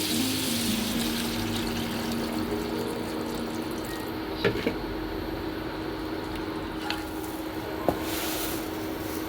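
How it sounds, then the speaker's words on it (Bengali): Water is poured into mango chutney cooking in a pot, heard as a continuous, fairly quiet watery rush with a few small clinks, with no talk. "এবার আমি এর মধ্যে জল দিয়ে দেবো।"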